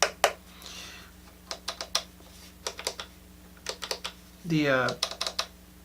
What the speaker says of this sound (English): eject buttons for the XLRs, they're very clicky.